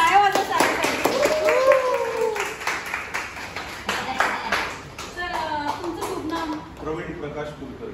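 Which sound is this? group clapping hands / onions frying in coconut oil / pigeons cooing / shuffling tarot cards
group clapping hands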